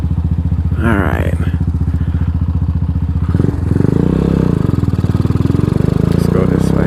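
Venom X22R 250 motorcycle engine running while riding, a steady, loud harmonic drone with a rising pitch shift partway through and mild rattling clatter, continuous throughout.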